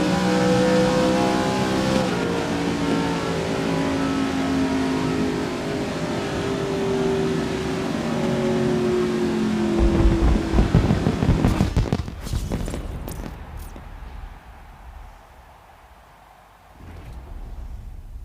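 Holden Commodore engine in the racing game GRID 2019 revving hard and accelerating, with rising and falling engine tones. A burst of crackling backfire-like pops follows near the end, then the sound drops away before the engine picks up again.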